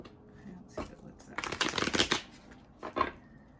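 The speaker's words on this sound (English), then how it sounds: "I feel like I need to shuffle more" Cards are riffled and shuffled in several quick crisp bursts, a longer flurry in the middle and a short one near the end, close up.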